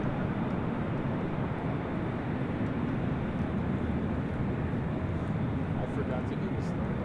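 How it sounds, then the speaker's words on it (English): A Spirit Airlines A321neo arriving from Detroit lands at LAX, filling the air with a steady, loud broadband roar that holds for the whole stretch while people talk nearby. "This is Spirit Airlines 947 coming in from Detroit on an A321neo."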